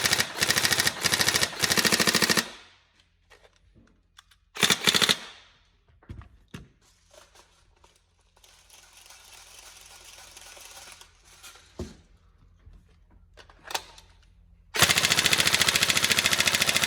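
Tokyo Marui M4 URGI NGRS airsoft rifle test firing with a snappy upgraded recoil spring, loud rapid full-auto bursts at the start and end, a short burst in between and quieter mechanical handling sounds during the gaps.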